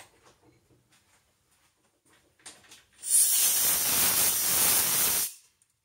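Compressed air blasts out a freshly cut 5 tpi Acme thread in a bronze nut on a lathe, a loud steady hiss lasting about two seconds after some quiet workshop clicks and rustles.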